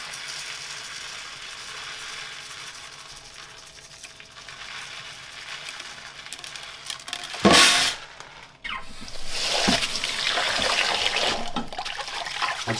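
Tap water running steadily into a pot of rice for rinsing, a continuous close hiss that surges louder midway, with brief splashy bursts and sloshing as the grains are stirred.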